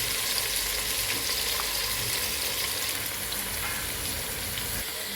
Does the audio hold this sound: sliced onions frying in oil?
yes